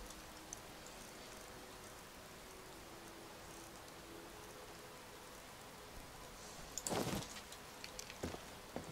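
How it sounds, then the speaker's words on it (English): Steady soft rain falls in a video game as a faint, even hiss, with a few brief louder rustles and thumps near the end. "And it's still raining."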